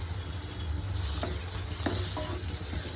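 Spiced mushroom Maggi noodles fry in a pan with a steady sizzle, while a spoon stirs and scrapes the pan a few times, close and fairly quiet, no talking.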